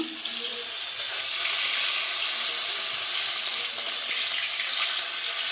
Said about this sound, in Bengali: আর মাছটা এক পিঠ ভাজা হয়ে যাক